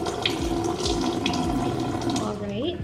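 Water runs steadily from a tap to dampen hair on wash day, a continuous splashing flow with a person's voice talking over it.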